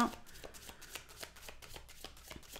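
Tarot cards shuffled by hand for a reading, a quick run of close, soft riffling snaps in a steady rhythm, quiet and without talk.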